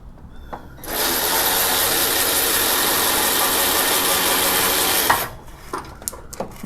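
A hand ratchet turns a bolt during a transmission cooler swap on a 1999–2004 Ford Super Duty truck, giving a steady, close, rapid clicking that runs for about four seconds before stopping, followed by a few faint knocks.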